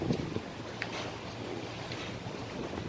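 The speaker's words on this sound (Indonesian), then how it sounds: "Cuaca angin besar ya, gelombang alun." Strong wind blows at Merak harbour, a steady gusty rush with wind buffeting the microphone and a low rumble of swell and boats beneath, with no voices.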